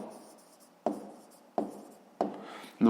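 Four sharp pen or chalk strokes, evenly spaced, as a math solution is written out, each a scratchy attack that fades quickly, close and in an otherwise quiet room.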